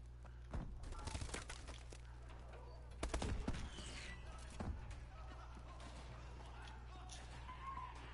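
Call of Duty gunfire comes through faint and distant as scattered shots and a few quick bursts over a steady low hum, with speech heard between them.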